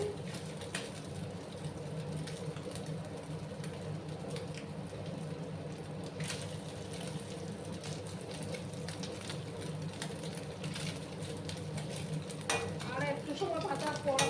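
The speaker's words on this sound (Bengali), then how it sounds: "ছোটো মাছগুলো ভাজতে একটু টাইম লাগে" Small kachki fish fry in a pan with a steady, low sizzle throughout, broken by occasional faint clinks of a utensil against the pan.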